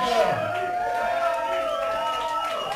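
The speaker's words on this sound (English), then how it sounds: "Give him a fucking round of applause" Bar crowd at a stand-up comedy night at Coconuts Bar & Grill whooping and cheering, a steady roar of voices with some clapping mixed in, dense and continuous throughout.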